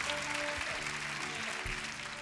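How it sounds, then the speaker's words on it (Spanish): A studio audience at the 1996 Teletón telethon applauds a comedy act in a brief, steady wash of clapping with a faint tonal hum underneath. "Un gran aplauso para Dinamita Show."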